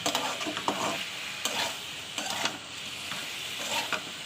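Vegetables frying in oil while being stirred, a steady close hiss and sizzle with scattered faint scraping taps of the spoon, continuous throughout and no voices.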